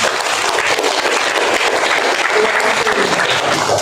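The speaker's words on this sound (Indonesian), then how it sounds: "Tepuk tangan dong." An audience at a banking and digital marketing workshop at IAIN Kudus bursts into loud, sustained applause for nearly four seconds, many hands clapping together at an even level with no voices.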